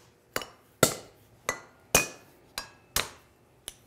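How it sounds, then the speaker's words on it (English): A light hammer strikes wedges and shims seven times in an irregular rhythm, each blow a sharp, close, ringing metallic clink that decays quickly, with no talk. "I'm using a pretty light hammer"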